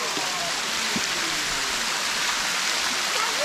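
Rushing water from the Sticky Waterfall in Thailand pours in a continuous, loud, even roar, with no voices heard.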